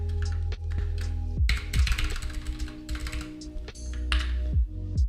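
Fast bursts of typing on a computer keyboard, close and crisp, with rapid clustered key clicks and short pauses over a low steady hum, no talking.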